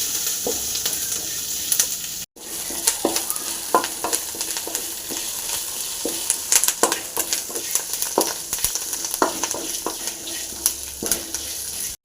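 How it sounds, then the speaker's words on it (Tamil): Curry leaves frying in a pan for an egg curry-leaf masala, a continuous close sizzle broken by repeated scraping stirs and one brief cut near the start. "நல்லா ஃப்ரை ஆகுது நல்லா ஃப்ரை ஆகணும்"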